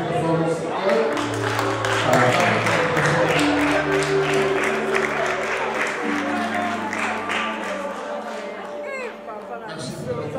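Church congregation at a worship service applauding and acclaiming, a dense steady wash of clapping and voices with sustained musical tones underneath, fairly loud throughout before easing slightly near the end.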